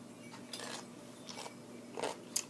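Biting and chewing crunchy food up close: a few quiet, crisp crunches spaced through a short stretch, with the sharpest bites toward the end and no talking.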